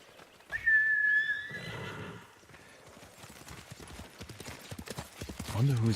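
A horse in the samurai game Ghost of Tsushima gives a loud, high whinny near the start, followed by steady hoof clip-clop with a voice talking over it, and a short low snort near the end.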